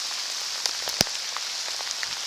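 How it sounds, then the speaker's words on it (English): Heavy rain pours steadily onto a surface close to a waterproof camera, a constant hiss with a few sharper drop impacts standing out. "it's pouring rain"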